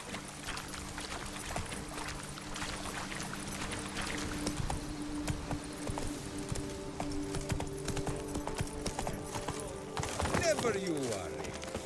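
Horse hooves in The Witcher 3 game clip-clop in a steady trotting rhythm throughout, moderately close, with background game ambience and humming tones beneath.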